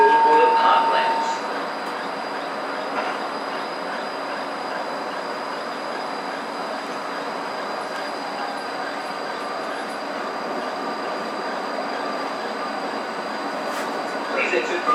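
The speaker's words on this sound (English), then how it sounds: "Please let the tram depart before crossing the road." A Gold Coast tram rolls steadily along its tracks, a continuous broadband rumble with faint wheel squeal, close and even in level for the whole stretch with no talk over it.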